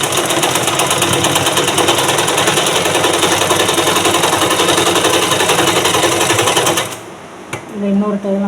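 A sewing machine runs fast and loud while stitching a blouse, a steady rattling whir lasting about seven seconds before stopping abruptly, followed by brief quiet handling noises.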